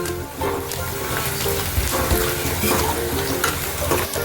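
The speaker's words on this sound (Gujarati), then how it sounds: "તેને પણ આપણે થોડીક વાર મિક્સ કરી લેવાનું છે।" Onions with garlic, ginger and chili paste sizzle and get stirred in a hot pan, a continuous frying crackle with rhythmic scraping.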